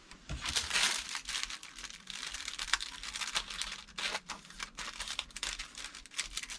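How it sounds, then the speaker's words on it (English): Thin plastic from a heat-shrink bag crinkles and rustles continuously as the excess is trimmed off, close and fairly loud, with crisp crackles and no voices. "I will trim off the excess"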